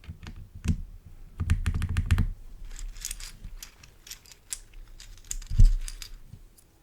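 Plastic keycaps pressed back onto a keyboard one by one, giving scattered close clicks and soft snaps with a few heavier low thuds, uneven in rhythm and fairly quiet, with no talking.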